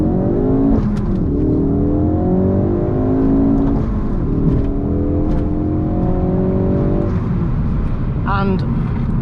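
A Ford Focus RS accelerates hard along an open road, its engine note climbing through several rising sweeps and gear changes, loud and close from inside the car, with a person talking over the engine throughout.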